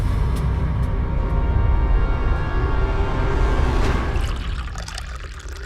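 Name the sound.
filtered drinking water being poured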